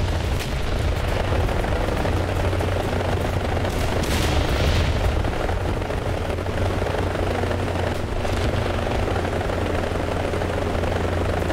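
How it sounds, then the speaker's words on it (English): Machine-gun fire in a combat video game with rotor and vehicle noise, a loud, dense, continuous rumble of rapid shots and engine drone filling the whole stretch, with sharper bursts around the middle and no voices. "Kill that guy with my machine guns."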